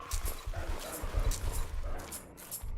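A dog in the video game RLCraft barks and whimpers in short, repeated yips and bursts over a rhythmic low thumping, fairly close, with no talking during the sounds.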